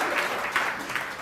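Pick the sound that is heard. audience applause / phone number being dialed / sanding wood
audience applause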